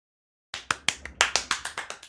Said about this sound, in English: Jarvis clap.